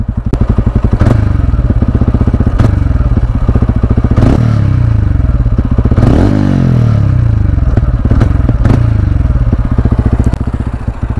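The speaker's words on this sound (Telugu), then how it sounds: "ఇప్పుడు ఎగ్జాస్ట్ నోట్ అయితే వినండి." A 2024 special edition TVS Ronin motorcycle runs close and loud, its exhaust giving a throbbing, chugging idle broken by several quick throttle blips that rise and fall, with no talking.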